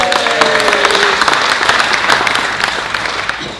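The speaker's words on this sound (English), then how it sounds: "Let's give her a round of applause." Audience applause at a Rotary club luncheon meeting, a loud sustained round of clapping from a roomful of people that slowly tapers over a few seconds.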